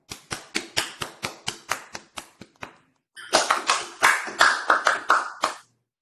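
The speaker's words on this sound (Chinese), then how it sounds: "就让我们掌声欢迎讲者" A small group claps in a brief burst of sharp, evenly spaced hand claps, pausing for a moment before a second, denser round of clapping resumes and then stops.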